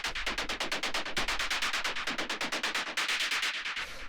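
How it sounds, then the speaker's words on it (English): Ableton Operator percussion for dark warehouse techno hammers in a fast, relentless stream of short bright hits over a low rumbling kick pulse, loud and close with no voices. "The next thing that we have here is this operator percussion,"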